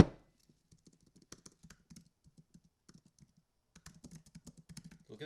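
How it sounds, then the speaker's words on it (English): Someone types on a computer keyboard in quick, scattered keystrokes, faint and close. A short pause comes partway through, then a denser burst of typing follows. No one speaks. "Look at that typing, baby."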